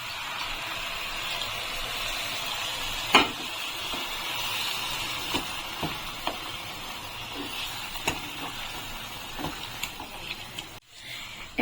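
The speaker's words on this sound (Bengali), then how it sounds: "এখন আমি এর ভিতরে দুধটা দিয়ে দিচ্ছি" Thickened milk goes into a pan of frying grated carrots for carrot halwa, producing a steady close hiss of sizzling broken by a few soft clicks and taps.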